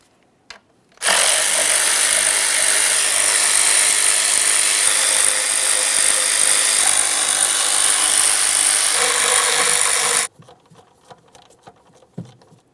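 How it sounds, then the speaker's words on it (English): Close power tool loosens intake manifold mounting bolts on a Jeep Grand Cherokee 3.6L V6, one loud, steady whirring run of about nine seconds that starts and stops abruptly, followed by quiet. "Let's start removing these mounting bolts."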